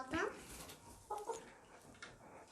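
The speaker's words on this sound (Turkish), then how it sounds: "Bakın bu bizim tepeli tavuğumuz da buraya gelmiş." Crested hen clucking among a mixed flock in a backyard coop of around 300 chickens, with short bursts of clucks and calls up close, followed by quieter fowl sounds in the background.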